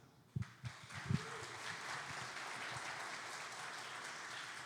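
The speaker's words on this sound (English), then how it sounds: "I was going to ask for a clap from everyone" Audience members clap after a talk about rescuing great whales, with a few loud, close claps at first that settle into a softer, continuous spatter of applause.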